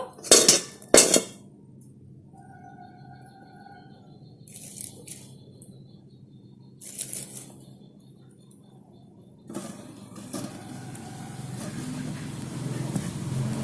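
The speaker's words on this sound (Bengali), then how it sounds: "তার জন্য প্রথমে উনুনে একটা কড়াই চাপিয়ে দেব" Metal wok (kadai) set down on a stove in a home kitchen while making jalebi, with two sharp metallic clanks at the start, lighter knocks and rattles later and a rising burner hiss toward the end.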